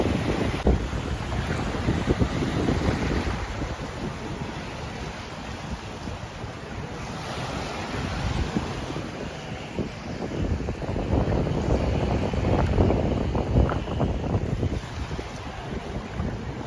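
Wind rushing across open sea aboard a paraw sailboat off Boracay at sunset under sail with no engine, a constant roaring gust and water wash filling the clip, loud and close to the microphone.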